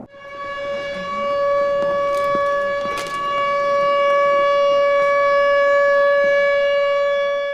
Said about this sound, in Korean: 갑자기 울려대는 사이렌 소리